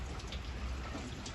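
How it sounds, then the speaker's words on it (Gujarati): Heavy rain pours down in a constant soft, even patter, faint and distant, with no voices. "બહુ બધો વરસાદ ચાલુ હોય"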